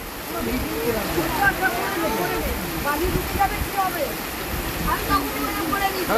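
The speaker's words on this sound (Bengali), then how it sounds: "চাটা খেতে খেতে মুসল ধারে না বৃষ্টি নামলো মুসল ধারে" Torrential rain pours down near Digha as a loud, continuous rushing hiss, with voices talking throughout over the downpour.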